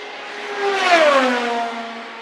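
An Indy 500 race car on a qualifying lap at Bump Day roars past on the front stretch, its engine note rising then falling in pitch as it sweeps by close, loud and alone without voices.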